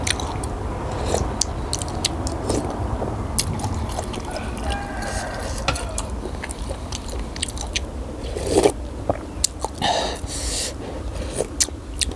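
Close, crunchy chewing and biting of beef larb with fresh vegetables, with irregular crisp crunches and wet mouth sounds repeating throughout.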